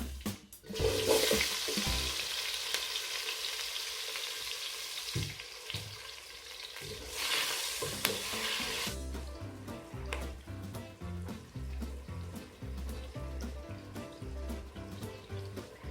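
White onions heat and sizzle in a pot for Nigerian vegetable jollof rice, giving a steady hiss through the first half that then gives way to music.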